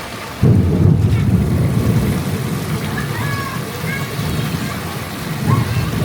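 Steady heavy rain roars as a dense, continuous wash of noise, with a few faint chirps drifting above it.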